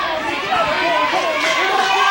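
A packed wrestling crowd at the Mid-Atlantic Sportatorium cheers and chatters in a steady, dense roar, with a voice speaking over it.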